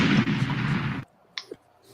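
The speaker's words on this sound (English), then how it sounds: "the real explosion soundboard" A soundboard explosion effect plays as a loud, dense blast that cuts off abruptly after about a second, followed by a brief faint pop and then quiet.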